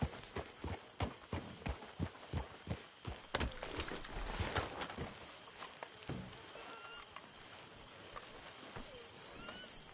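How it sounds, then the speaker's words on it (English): Horse hooves clip-clopping in Red Dead Redemption 2, a run of sharp, close hoofbeats in an uneven rhythm that fade into a softer wash of background ambience. "Get that horse."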